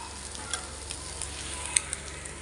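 Taro root pieces frying in a pan make a continuous close sizzle with light scattered ticks and one brighter clink, steady in level and without speech.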